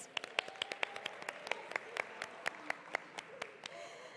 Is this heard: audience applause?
yes